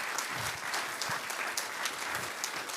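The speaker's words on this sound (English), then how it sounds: "give them a big applause." Audience applause at a tech conference session in Amsterdam: steady, fairly faint clapping from a seated crowd, even and continuous with no voices over it.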